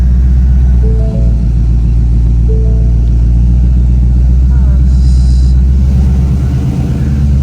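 A Ford Mustang GT S550 fitted with a cold air intake and a 93-octane tune idles and rumbles loudly up close, its deep exhaust drone steady throughout, with a voice speaking over it.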